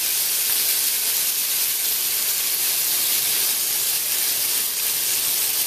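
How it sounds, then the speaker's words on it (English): Turkey bacon fries in a pan with a steady, loud, unbroken sizzling hiss that holds at even strength from start to finish. "the bacon is going to start to shrink up as it's cooking"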